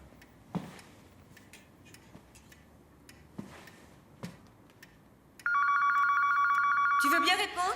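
A telephone rings steadily and loudly for about two seconds in an office setting, cutting in after a stretch of quiet room noise with a few faint ticks and taps.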